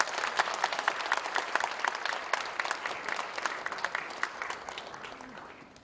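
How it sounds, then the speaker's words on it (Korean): A church congregation claps steadily for several seconds during an ordination service, dense and lively, tapering slightly toward the end. "인사하고 들어갈 때 크게 박수로 격려해 주시기 바랍니다"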